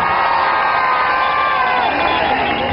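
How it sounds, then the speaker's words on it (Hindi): Schoolchildren and audience at a public school event in Dehradun cheer and clap loudly, a dense continuous roar of crowd noise and whoops without pause. "एक बार जोरदार तालियों से मुझे बता दीजिए कि आपका हाथ आकर तालियों में मुझे दिखाई दे।"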